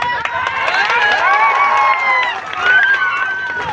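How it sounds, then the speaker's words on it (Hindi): A crowd at a political rally in Silli claps and cheers in a dense, continuous roar of applause and raised voices, close and energetic throughout. "ताली तो और कुलकुली बड़ी बज रहा है आप लोगों का"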